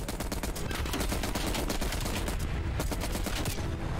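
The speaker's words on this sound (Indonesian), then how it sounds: "Kita jadi Rambo benar deh ya, di Vietnam pakai machine gun" Continuous rapid machine gun fire in the game Call of Duty: Black Ops Cold War, loud and sustained, with dense overlapping shots and a heavy low rumble throughout.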